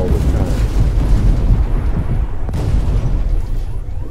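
Tank cannon fire and explosions in a video game featuring a Vickers MK7 main battle tank, heard as a loud, continuous rumbling boom with a sharp crack midway, without talk.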